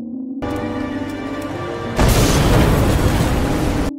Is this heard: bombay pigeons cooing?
no